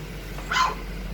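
A dog gives a single short, fairly high bark at moderate distance over a low steady background hum, with no talking.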